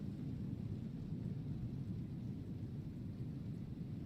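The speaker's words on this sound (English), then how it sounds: "it's raining outside, but we're inside" Heard from indoors in the survival video game Icarus, a low, muffled rumble of thunder with rain rolls on steadily throughout, quiet and dull with no voices.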